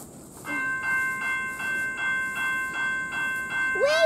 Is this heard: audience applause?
no